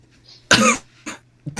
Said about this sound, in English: Are you guys done with coughing?